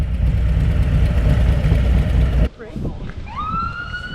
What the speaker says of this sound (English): That's an ambulance, not a cop car.